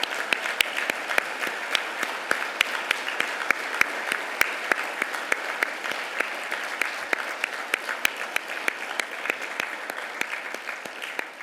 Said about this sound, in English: the audience in the room give them all a rounding, sounding applause